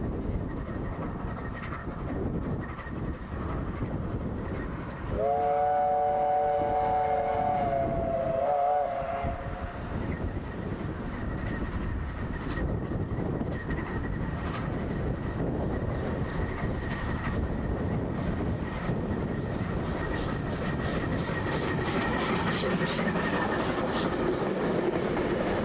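Steam locomotive 644 departs Feilding bunker first on a return run to Palmerston North, a continuous rumbling rail roar with a sustained whistle blast early on and rhythmic clattering building toward the end.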